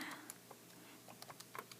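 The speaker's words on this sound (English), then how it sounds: "So I'm going to type in our Y value" Calculator keys are pressed to enter data values, a quiet series of about ten light plastic clicks in an uneven rhythm, close and faint with no talk over them.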